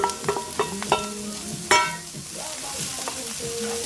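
Chopped bell pepper, shallots, scallions and carrots for jackfruit chili tumble into a hot pot and sizzle as a spoon stirs them, with several clattering scrapes up front and a steady frying hiss afterward, close and clear.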